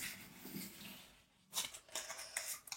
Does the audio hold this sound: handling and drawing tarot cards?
yes